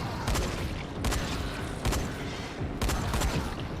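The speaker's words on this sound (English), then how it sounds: "Get my shotgun shots off." Four heavy shotgun blasts in Dying Light: The Following ring out at roughly one-second intervals, each a loud, booming crack with a short rumbling tail, close up.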